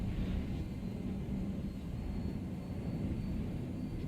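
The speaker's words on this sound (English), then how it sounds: "So we're gonna land here. Landing gear deployed." Hornet fighter ship in a video game setting down to land with its landing gear deploying, a faint, steady low engine rumble and airy hum throughout, with no distinct mechanical clunks standing out.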